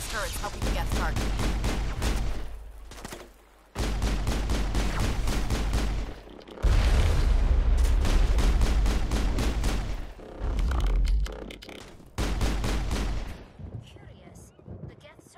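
Sustained crossfire of gunfire in the Mass Effect video game, with rapid bursts and heavy booming shots firing almost continuously, broken by a few short lulls.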